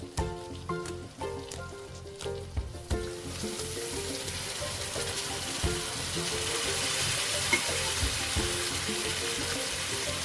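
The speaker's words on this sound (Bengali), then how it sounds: "এখন আমি মশলা ধোয়া জল ওপর দিয়ে ছড়িয়ে দেবো।" Spiced water is sprinkled over tangra fish frying in a pan. The sizzle swells into a steady, loud hiss after a few seconds of softer spatter and clatter, and no voices are heard.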